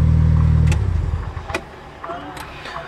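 The swapped Evolution engine idles in a Mitsubishi Eclipse, a loud close rumble for under a second before it drops away, leaving a few sharp clicks and metallic knocks.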